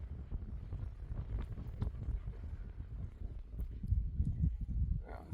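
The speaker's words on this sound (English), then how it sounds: "that's a bit windy" Gusty wind buffets a phone microphone outdoors on a sunny day, a steady low rumbling roar with stronger swells throughout.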